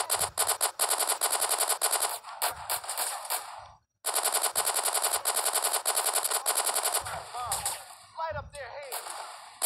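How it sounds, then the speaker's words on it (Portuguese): Rapid bursts of machine gun fire from GTA San Andreas territory fighting, loud and near, rattling in long strings with a brief gap midway, while a voice talks over the shooting toward the end. "Os caras já estão vindo com metralha, com a mesma da minha, ó, SM."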